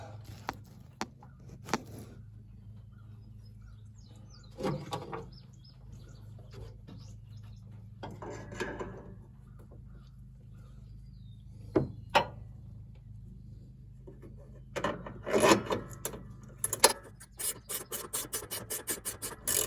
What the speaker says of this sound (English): So you're gonna hold that hook and unscrew that nut at the same time.